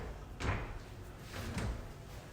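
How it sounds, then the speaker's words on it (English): A swinging kitchen door in a house under construction swings twice, each pass giving a soft swishing thud about a second apart, fairly quiet and close. "here we have our swinging kitchen door"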